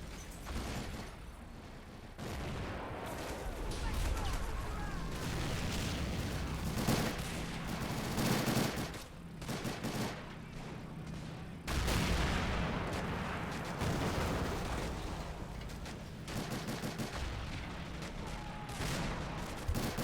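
Battle gunfire and artillery in a World War II-style video game, with dense overlapping rifle and machine-gun shots and heavy booming blasts rolling continuously, loud and chaotic, with no talking.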